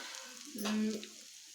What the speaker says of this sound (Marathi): कांदा छान भाजला आहे